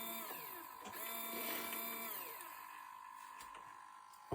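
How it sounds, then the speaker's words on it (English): An electric actuator trims the jib on a model J Class boat, producing a thin, close motor whine whose pitch slides up and down before it cuts off, ending in a brief knock. "I can also trim the jib with one of these actuators"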